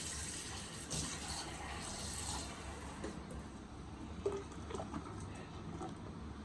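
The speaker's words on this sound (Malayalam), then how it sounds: "കുറച്ചും കൂടി വെള്ളം ഒഴിക്കാണ്ട്." A steady, fairly quiet stream of water pours and splashes into a cooking pot, with a soft rushing texture and an occasional faint clink.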